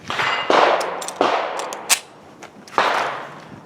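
Pistol shots from a Polymer 80 Glock 19 fired at steel targets 15 yards away, each crack followed by a ringing metallic clang, about four hits spaced unevenly and loud.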